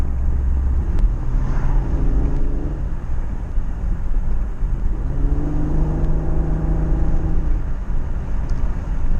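Engine of a 2008 Infiniti FX35 pulling from about 30 to 40 mph with the windows up, a steady low drone whose pitch climbs in two rising sweeps as the SUV accelerates under constant road noise.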